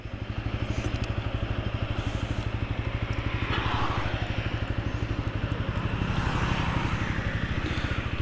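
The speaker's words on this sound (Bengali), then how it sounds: "বাইক স্টার্ট হলো।" A TVS Apache RTR 160 4V motorcycle engine running just after starting, a steady close rhythmic single-cylinder thrum with slight swells in revs and faint wind or road noise behind it.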